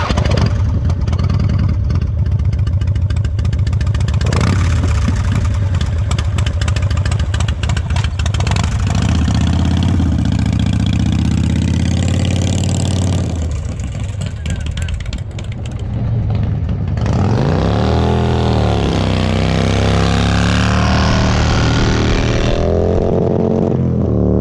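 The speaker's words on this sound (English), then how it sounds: "And that is how you spin a tire, folks." A Harley-Davidson motorcycle engine revs hard while spinning its rear tire, loud and close, with surging roars, falling pitch sweeps and a brief dip before revving again; a voice may briefly be heard underneath.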